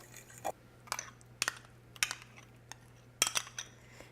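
Spoon knocking and scraping against a bowl while pumpkin spice cranberry scone batter with pumpkin is stirred, a run of sharp clinks at about half-second intervals, close and clear with no talk.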